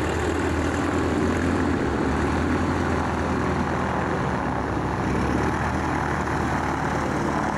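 Pilatus P2 propeller aircraft at an airshow, a steady, loud droning engine hum with continuous broadband noise and no clear change in pitch, sounding fairly close throughout.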